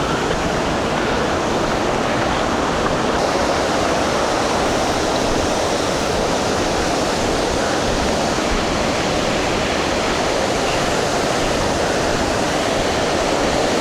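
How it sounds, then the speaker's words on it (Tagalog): A waterfall at the Hungduan rice terraces in Ifugao produces a constant, dense roar of falling water, steady and fairly loud throughout, with no voices. "Ito yung falls."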